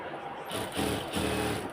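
A sewing machine runs in two short bursts as it stitches a pocket onto ladies' pants, giving a close, steady mechanical whir with a brief pause between runs.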